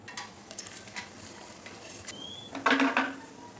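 Whole black peppercorns, cardamom, cinnamon, cloves and dried red chillies drop into hot oil in a kadai, bursting into a sharp sizzle after a few quiet clinks and stirring sounds.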